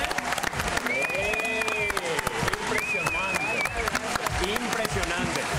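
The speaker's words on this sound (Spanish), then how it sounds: "El aplauso para nuestras actrices." Loud applause and cheering from a live studio audience on a Paraguayan TV show, dense clapping throughout with whistles and shouts on top.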